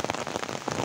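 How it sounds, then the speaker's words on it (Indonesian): Rain falls steadily on a surface, a dense close patter of drops with no pauses throughout the brief moment. "karena menunggu hujan reda pun sangat lama sekali pemirsa"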